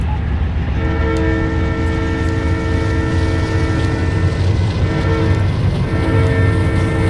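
A train rolls along the rails and picks up speed, a loud continuous rumble with a sustained tonal horn-like drone sounding through most of it, close and steady without pause.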